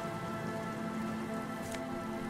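Water drips from a red-painted tarp in Disco Elysium, a steady patter of drops over a constant ambient hum and rainy wash, with no speech.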